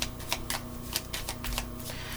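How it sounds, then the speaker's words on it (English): A deck of tarot cards is shuffled by hand, a quick run of crisp riffling snaps and flutters in an uneven rhythm, close up and alone. "Okay, so I'm going to shuffle 2 more"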